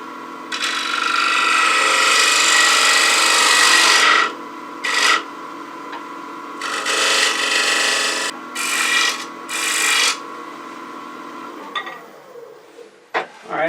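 Wood turning on a lathe with a detail gouge, a close, loud rasping scrape that comes in long passes and shorter bursts with the motor humming underneath.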